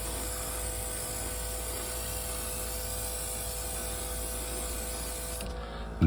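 A GAAHLERI GHAD-68 airbrush sprays Quick Shine in a steady, close, continuous hiss over a low hum, holding level throughout and cutting off abruptly just before the end.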